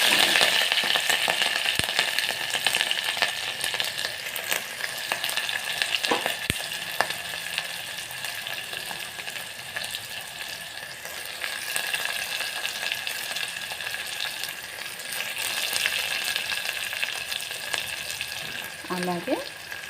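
Onion and green chillies fry in a hot pan for a potato mutton curry, giving a steady, loud sizzle and crackle with occasional clinks of a spoon against the pan.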